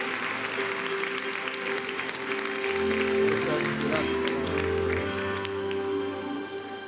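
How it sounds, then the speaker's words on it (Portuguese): Audience applause for René Simões at a leadership summit, steady clapping from a large crowd running for several seconds over background music and voices. "dar um forte aplauso ao René Simões"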